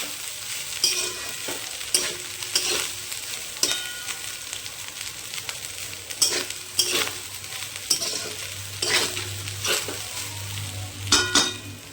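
Egg fried rice frying and being stirred in a pan, a steady sizzle with repeated scraping strokes of a utensil against the pan at an irregular rhythm, close and fairly loud, with no talking.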